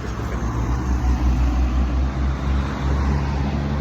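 Cars passing on a road, a steady, fairly loud rumble of traffic with engine drone and no talk.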